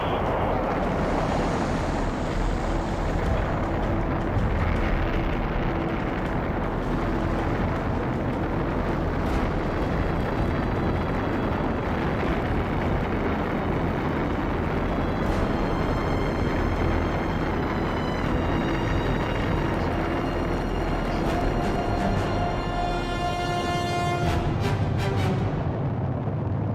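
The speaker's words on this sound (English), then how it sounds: "Ignition sequence start." Apollo 11 Saturn V rocket at ignition and liftoff, a loud continuous rumbling roar with crackling broadband noise that holds steady throughout, with faint tonal whines creeping in toward the end.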